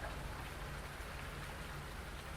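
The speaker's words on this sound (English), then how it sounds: "When are we losing this rain?" Steady rain falls in Farming Simulator 19, a soft, even hiss of drops heard faintly and continuously on its own.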